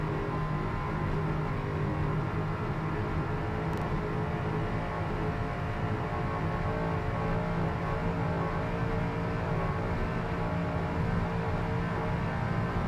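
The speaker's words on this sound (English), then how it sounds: "As you can hear the motors revving up." Race car engines roar and rev steadily at a green-flag race start, a dense, continuous drone, loud and close, with no voices.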